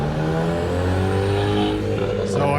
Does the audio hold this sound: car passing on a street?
yes